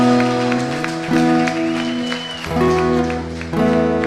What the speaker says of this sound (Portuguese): Salva de palmas ao Senhor